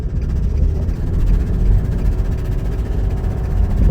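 A Nissan X-Trail with a 2.5 engine accelerates while driving, giving a steady, loud low rumble that fills the whole stretch with no one talking.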